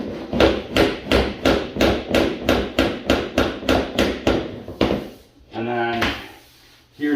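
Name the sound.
tapping vinyl flooring planks into place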